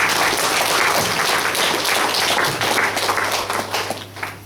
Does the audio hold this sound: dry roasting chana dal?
no